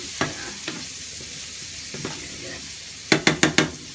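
A spoon stirs mushroom and chorizo risotto sizzling in a pan, giving a few soft scraping strokes, then a quick run of four louder, sharper scrapes near the end.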